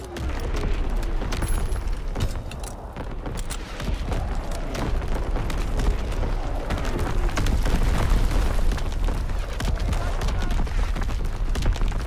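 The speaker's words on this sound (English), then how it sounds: "Firing primary battery." Heavy naval primary battery guns fire in a Call of Duty WWII battle, a dense, continuous barrage of booms and rumbling blasts layered over constant combat noise, loud and sustained throughout.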